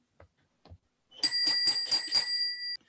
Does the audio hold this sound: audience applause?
no